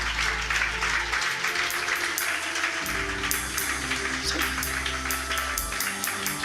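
A church congregation claps during a Kannada-Hindi sermon, with steady rhythmic applause under a droning tonal backing of music or keyboard, no talk heard.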